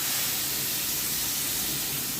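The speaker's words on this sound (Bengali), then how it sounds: "এবার আমি জলটা দিয়ে দেব।" Water poured into a hot pan of bitter gourd and potatoes sets off a loud, steady sizzling hiss that holds unbroken for the whole moment.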